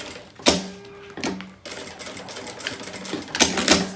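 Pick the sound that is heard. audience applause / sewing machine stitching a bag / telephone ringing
sewing machine stitching a bag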